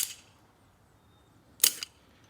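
A single sharp BB gun shot fired at a can outdoors, heard as a brief crisp crack near the end, with another faint snap at the very start and quiet in between.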